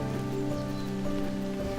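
Steady rain falls in an Alaskan rainforest, a dense, even patter on leaves and surfaces nearby that continues without a break and with no voices.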